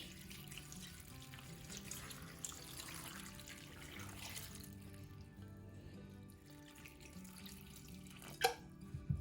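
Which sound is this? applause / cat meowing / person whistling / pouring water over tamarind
pouring water over tamarind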